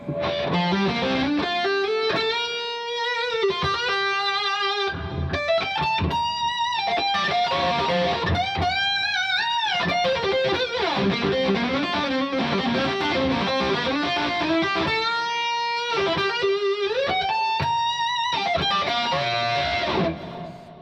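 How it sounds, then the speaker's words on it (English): An electric guitar played through an amp with extra reverb added, a continuous stream of sustained notes and bends washed in a long reverb tail, loud and steady, with no talking. "Here's the more reverb."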